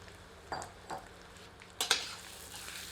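Spiced chicken going into a pan for tari murgh, quiet background sizzle with a few distinct metallic clinks and scrapes of a utensil against the pan, the last two louder and close together.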